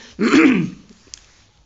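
One harsh, throaty cough or throat-clear bursts out close and loud, followed by a brief faint click and quiet.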